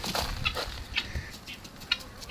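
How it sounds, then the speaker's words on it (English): Backyard chickens waiting to be fed, with a guinea fowl nearby: faint scattered clucks and short squawks at a moderate distance over an outdoor background hum. "Say chickens, they waiting on their feed."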